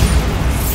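A Bombarda blasting spell goes off in Hogwarts Legacy, one loud, deep boom that rumbles for under a second.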